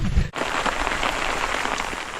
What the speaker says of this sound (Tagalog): Medyo ulan-ulan.